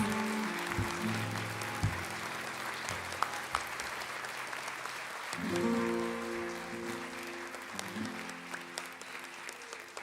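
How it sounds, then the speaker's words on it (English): Audience applause for bronze medalists at a medal ceremony rolls on for several seconds, many hands clapping at a steady level while music or tones play underneath. "Let's give them a round of applause for their bronze medals."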